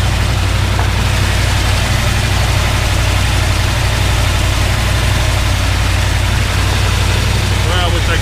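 Loud, steady low idle of a 1977 Dodge W100 Power Wagon's 440 V8, a constant deep rumble close by with a faint voice under it.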